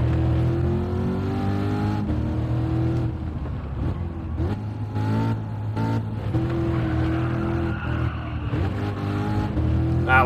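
A race car at Laguna Seca in Gran Turismo accelerates hard, its engine note climbing through the gears with rising revs and brief dips at the shifts, loud and up close with no talking.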